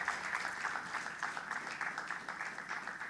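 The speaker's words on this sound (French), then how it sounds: "ça sera sous vos applaudissements" Steady audience applause at a health quiz match show, a dense wash of clapping that holds evenly from start to finish, with no speech.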